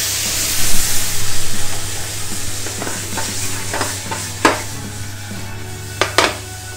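Bananas flambéed with rum in a pan give a steady hissing sizzle with a low rumbling hum beneath, broken by stirring scrapes and a few sharp metallic clinks near the end.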